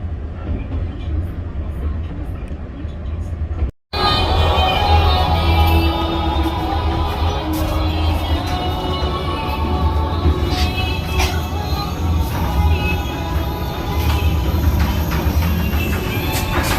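Vietnamese sleeper train heard from inside a carriage, a loud continuous rumble and rattle of the moving train with clicks and squeaks, after a brief quiet start and a sharp cut.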